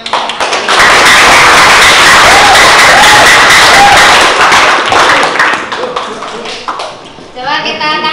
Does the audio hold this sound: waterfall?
no